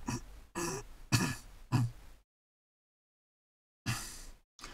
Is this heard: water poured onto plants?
no